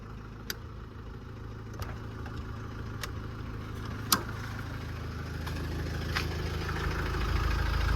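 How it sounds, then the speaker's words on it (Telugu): A 2011 Nissan Micra top model idles after starting, a low, even engine hum that holds steady and swells slightly toward the end, with a few faint clicks over it and no talking. "నేనైతే ఇంజన్ అయితే స్టార్ట్ చేసిన"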